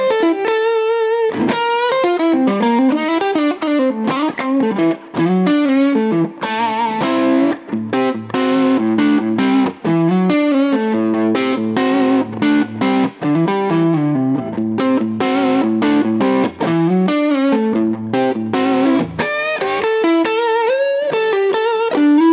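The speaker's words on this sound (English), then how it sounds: "Let's hear the neck pickup." Les Paul Special electric guitar on its P90 neck pickup, playing a busy lead line of quick notes and runs through a driven, chorused tone, steady and loud, with no talking.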